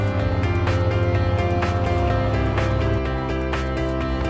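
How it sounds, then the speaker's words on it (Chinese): A speedboat engine drones loudly and steadily on the ride to Phi Phi island, with a pulsing low hum and regular slapping surges as the hull bounces over water. "搭快艇。"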